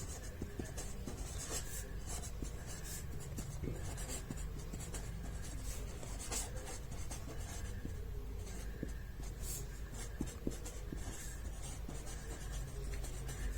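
Pen writing on paper during a maths lesson, a continuous scratchy rubbing with short strokes and taps, close and steady with no talk.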